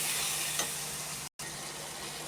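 Curry seasoned with coriander powder sizzles steadily in a pan while being sautéed, a soft continuous frying hiss close by with a brief cut partway through.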